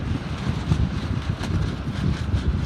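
Strong wind buffets the microphone during a Sabot dinghy sailing race at a mid-winter regatta, a constant, loud, low rumbling roar with no voices.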